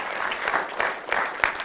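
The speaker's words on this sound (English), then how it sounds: "Can you give the Lord a hand clap of praise in the house of God?" A church congregation claps hands in praise during a Sunday morning service, a brief burst of lively, uneven applause from many people, fairly close.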